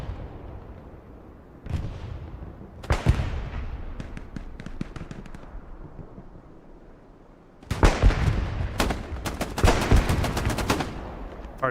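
Shotgun and other gunfire ring out in the Hell Let Loose video game during a competitive match in Hurtgen Forest, with sharp loud blasts and rapid volleys that first come in sparse bursts and later cluster in heavy, echoing fire.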